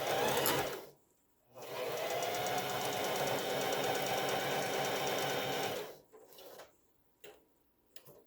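A sewing machine stitches a pet collar in a steady rapid run for about four seconds after a short burst, then stops, followed by a few isolated clicks and short mechanical whirs, fairly quiet and close.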